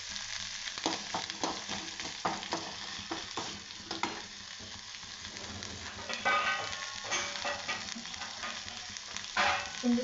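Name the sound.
curry leaves frying in a pan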